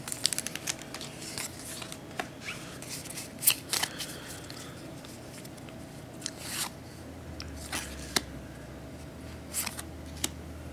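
A Pokémon Plasma Storm booster pack being opened and its cards handled: scattered crinkles, snaps and card flicks in irregular bursts, close and fairly quiet, with no talking.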